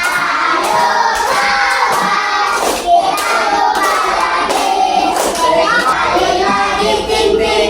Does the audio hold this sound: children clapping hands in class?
yes